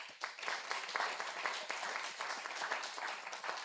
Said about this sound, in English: Clap her again.